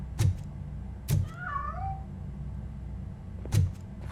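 A cat meows a few times in RoboCop: Rogue City, with soft, rising and falling calls in the middle, framed by three dull knocks or thuds over a low game ambience.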